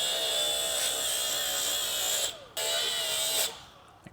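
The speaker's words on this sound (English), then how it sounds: "I'm going to use my wire wheel" A wire wheel on a power tool grinds corrosion off a BMW X5 brake with a loud, steady, close-up whir, stopping briefly twice before spinning back up.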